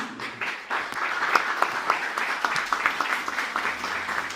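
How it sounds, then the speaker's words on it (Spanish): Congregation applauding in a church service, a steady wash of many hands clapping at moderate distance with a few sharper individual claps standing out, continuous throughout. "Dale un aplauso a Jesús."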